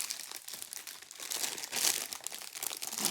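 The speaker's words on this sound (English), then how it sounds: "I'm gonna open it up and see exactly what it is." Crinkly plastic packaging of a pack of cards rustles and crumples continuously for a few seconds, close and fairly quiet, with no talking.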